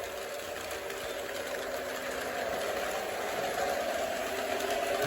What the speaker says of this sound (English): I was just having fun running 2 trains.